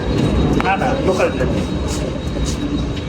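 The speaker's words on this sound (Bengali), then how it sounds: "ট্রেন চলে আসছে, মেট্রো না" A loud, continuous rail rumble fills Bandra station in Mumbai as a mainline train rolls in, with a voice speaking over the noise and a faint high whine.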